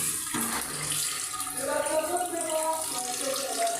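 Water runs steadily from a newly installed shower under plumbing test in a bathroom on a new building site, a continuous hiss and splash heard close up after a brief clunk at the start.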